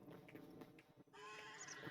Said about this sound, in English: Theoretically, we've got a horse sitting in here.